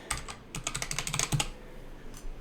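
A password is typed on a computer keyboard in a quick run of light, close key taps, followed by a short pause and then a couple more presses.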